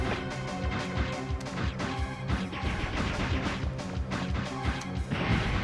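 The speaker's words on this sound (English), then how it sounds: "She's throwing booms at me." Repeated explosions from a boss's bombs in the Nintendo 64 game Mega Man 64, a dense run of loud crashing booms with no pause between them and no talk over them.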